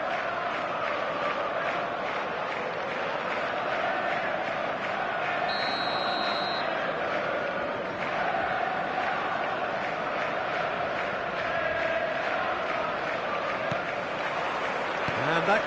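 A stadium crowd in the eFootball game on PS5 keeps up a dense, continuous roar at fairly high level, with a commentator's voice talking over it.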